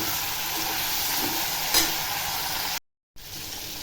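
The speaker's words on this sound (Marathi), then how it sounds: "चांगलं फ्राय करून घ्यायचं कारलं तेलामध्ये" Bitter gourd fries in oil in a pan, giving a steady close hiss of sizzling that cuts out briefly near the end before resuming.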